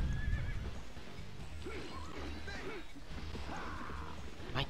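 A horse neighs in Dynasty Warriors 2, a few rising and falling whinnies amid battlefield clatter, hoofbeats and game sounds, fairly quiet in the mix.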